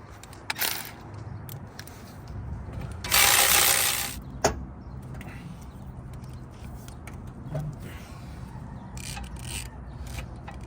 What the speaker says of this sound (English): Always untight these bolts because you for sure don't want these to strip. Give it a few turns.